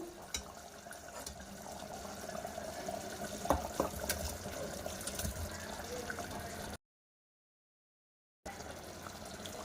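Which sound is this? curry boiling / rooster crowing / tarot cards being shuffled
curry boiling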